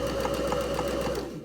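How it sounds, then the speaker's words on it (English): A sewing machine stitches a row of stabilising stitches for a narrow hem, its fast, even mechanical chatter running close and steady before slowing at the end. "I'm going to first sew a row of stabilising stitches."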